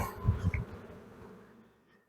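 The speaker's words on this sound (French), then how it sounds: "On va essayer d'enlever quand même le maximum d'abeilles de cette colonie pour ne pas l'impacter." Honey bees buzz around an established hive colony while it is being handled, a close, steady droning hum that swells briefly near the start and then slowly fades.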